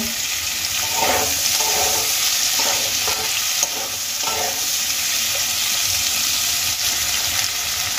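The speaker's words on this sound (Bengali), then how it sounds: "এবার আমি আলুগুলোকে খুব ভালো করে ভেজে নেব।" Potatoes frying in a pan for a spicy aubergine and potato dish, a steady bright sizzle running throughout with a few soft stirring scrapes near the start, close and fairly loud with no voices.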